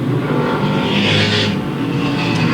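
Late model race cars roar around Louisville Motor Speedway in 1997, a loud, steady wall of engine noise that swells as a car passes close by.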